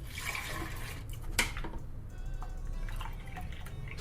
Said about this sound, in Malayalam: 3 കപ്പ് വെള്ളം കൂടി ചേർത്ത് കൊടുക്കാം.